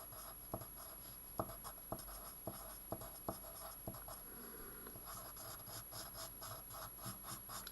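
Someone writes on a page with a pen while working a vector maths problem, making a series of crisp taps and scratchy strokes, then a longer stretch of continuous scribbling, all faint and close, with no talking.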